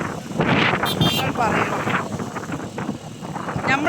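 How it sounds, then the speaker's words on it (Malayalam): Strong wind buffets the microphone in heavy, continuous gusts, with a voice talking over the roar. "നല്ല കാറ്റുണ്ട് ഗൈസ്, നല്ല കാറ്റ്, നല്ല കാറ്റാണ്"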